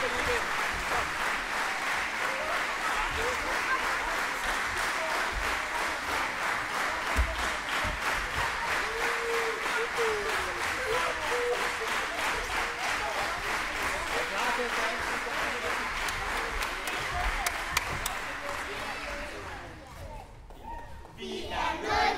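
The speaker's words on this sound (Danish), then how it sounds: "så klapper vi igen" A group of young schoolchildren clap their hands in a steady, dense crowd of applause that runs almost the whole way through, with a brief dip near the end.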